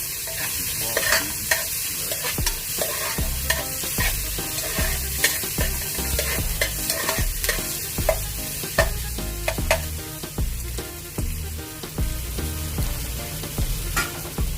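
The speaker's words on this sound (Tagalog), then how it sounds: "Gisahan lang natin ang ito yung tokwa" Tofu sautéing in a pan for stir-fried bean sprouts, with loud continuous sizzling and steady scraping strokes of a spatula stirring throughout, close and prominent with no talking.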